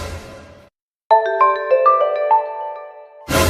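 A mobile phone ringtone chimes out a quick, bright sequence of stepped electronic notes, loud and close, between bursts of classroom noise in a comedy skit, with a short silence before the melody starts.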